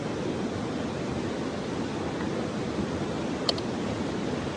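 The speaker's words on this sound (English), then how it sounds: "With the sound of the creek" A creek flows steadily near a trailhead, its broadband water rush continuous and fairly close, with one brief faint click partway through.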